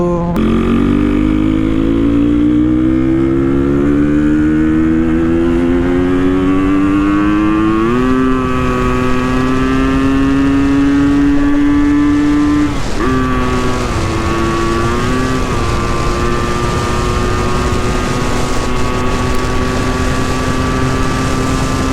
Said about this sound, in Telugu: చూసిలా బండి సౌండ్ వాడమ్మ ఎట్లా పోతుందో